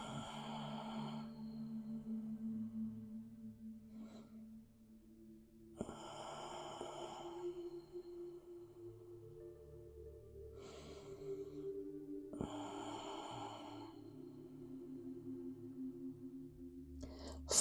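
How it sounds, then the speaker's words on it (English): Slow, deep intentional yoga breaths in a quiet room, several soft breathy inhales and exhales in an unhurried rhythm over a low steady hum. "Let's take 3 more deep intentional breaths in this space."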